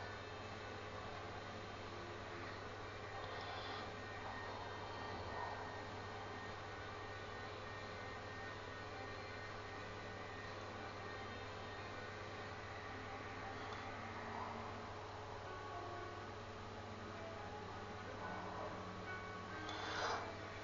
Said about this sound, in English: So I'm just hovering over the ground, just kind of playing with it to see how it works.